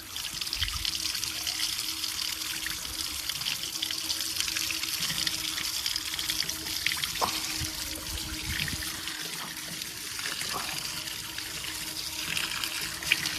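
Water runs and trickles steadily over an adenium plant as it is washed, a continuous close splashing flow with a few small knocks and no talking.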